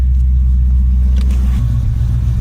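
Ford BA/BF Falcon engine idling smoothly just after starting, a steady low rumble heard up close with a slight change in pitch partway through and no other sounds.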